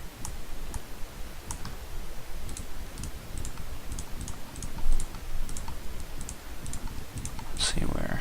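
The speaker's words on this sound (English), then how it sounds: "That's the third one that I'm clicking on." Sharp clicks of a computer mouse during Blender texture painting, about a dozen light clicks scattered across the stretch, some in quick pairs, over a low steady background hum.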